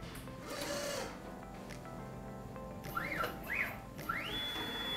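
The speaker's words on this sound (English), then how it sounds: "Now we're going to unload the array of 96 tips." A pipetting robot unloading an array of 96 tips makes a steady mechanical hum, with a few short rising-and-falling whirring motor sweeps near the end, close and moderately loud.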